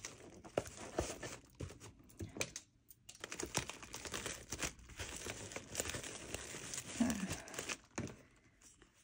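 Clear plastic packing material folded over and pressed onto a piñata, close crinkling and crackling rustles in irregular bursts with short pauses, no voices.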